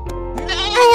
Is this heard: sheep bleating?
yes